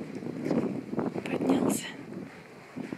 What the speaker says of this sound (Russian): Ой, ветер сильный.